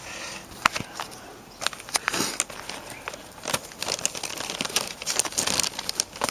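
Brown paper wrapping on a parcel being pulled open, with scattered crinkles and rustles coming close and moderately loud in irregular bursts, with no talking.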